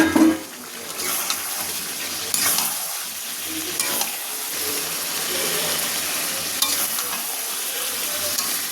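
Chicken, potato and raw papaya sautéing in a pan give a continuous sizzle and hiss, broken by occasional scraping strokes of a spatula against the pan.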